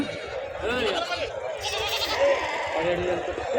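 Goats bleat several times amid a busy crowd at a goat and livestock market in Anantapur, with people talking throughout and animal cries rising above the chatter.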